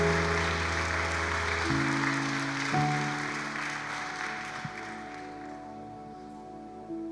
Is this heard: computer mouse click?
no